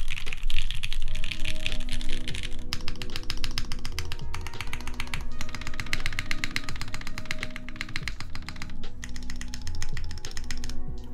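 Someone types quickly and continuously on a Palmetto mechanical keyboard with O-ring mounting, close-up rapid clacking in dense bursts with brief gaps, over a faint low hum.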